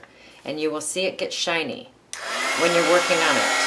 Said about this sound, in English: Now I'm going to grab my heat gun.